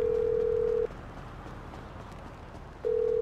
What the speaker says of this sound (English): who changed my ringtone?